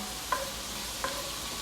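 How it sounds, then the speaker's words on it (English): Onions sautéing in a pan for a rabbit stew, a soft even sizzle with two brief utensil clinks against the pan. "So just go ahead and saute this for a few minutes until they get nice, soft,"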